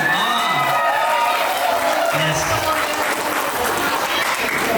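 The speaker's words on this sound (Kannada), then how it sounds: "ಚಪ್ಪಾಳೆ ಕೊಡ್ಬೇಕಲ್ಲ ನೀವು?" Wedding crowd at a traditional ceremony breaking into loud, sustained clapping close by, with a few cheers and voices mixed into the dense applause throughout.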